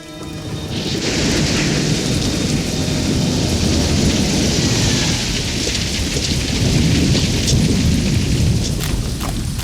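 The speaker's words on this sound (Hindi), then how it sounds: "बारिश हो रही है ना" Heavy rain pours steadily with rolling thunder rumbling underneath, loud and continuous from start to finish, with no one speaking.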